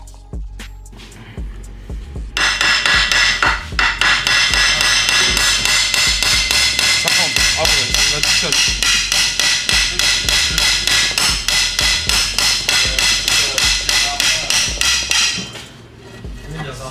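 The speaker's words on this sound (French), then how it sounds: "il met des grands coups de marteau" Heavy hammer blows ring out in a fast, steady run against a stuck bar clamped in a vise on a Renault 4L, loud metallic strikes repeating for about thirteen seconds before stopping.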